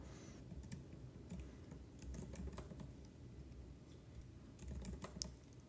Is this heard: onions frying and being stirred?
no